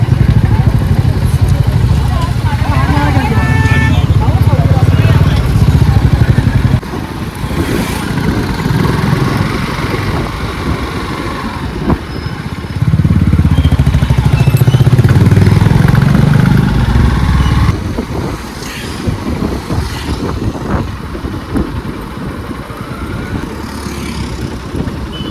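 A motorcycle engine hums and revs while riding along a winding ghat highway section on the Pune to Kolhapur NH48 road trip, the engine drone rising and falling in loud stretches while someone talks over it at times.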